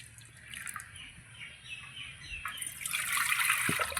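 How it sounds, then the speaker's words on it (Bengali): Water from freshly washed mung dal poured off in a kitchen, a faint trickle that swells into a steadier, splashing pour toward the end, close and quiet. "ডালটা ধোয়া হয়ে গেছে, জলটা ফেলে দিচ্ছি।"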